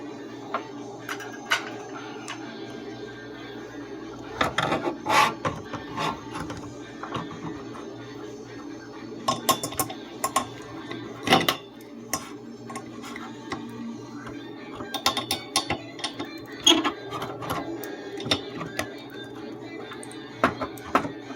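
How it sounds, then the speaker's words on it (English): Pliers working a part loose during repair of a Behringer Europower amplifier, making irregular metallic clicks, ticks and scrapes, close and moderately loud over a steady low hum, with no talk. "let's see if we can start working that out with the pliers"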